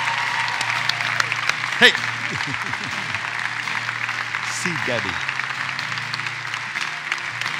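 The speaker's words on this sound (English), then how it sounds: "Come on, let's keep clapping for him." A church congregation claps in steady, sustained applause while voices talk over it.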